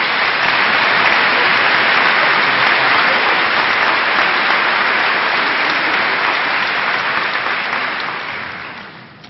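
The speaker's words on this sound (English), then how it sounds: "please join me in honoring her with a round of applause." Graduation audience at the 2013 Wadsworth High School commencement applauding the valedictorian, a loud, dense and steady roar of clapping that holds for several seconds before fading out at the end.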